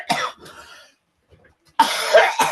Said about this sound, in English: I do have a persistent cough